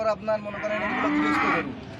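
A cow at a rural cattle market in Naogaon moos in a long, loud, close call while someone talks softly in the background.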